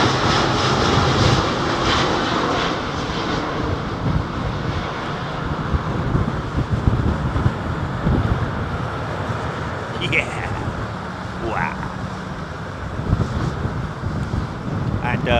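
Airbus A350-1000 airliner taking off at London Heathrow, a distant broad jet roar mixed with heavy wind buffeting on the microphone, steady and rough throughout.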